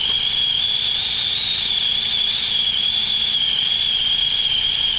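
A sprinkler head whistles as compressed air blows water out of an underground irrigation line, a steady high-pitched hiss, continuous and loud, wavering slightly in pitch with no pauses.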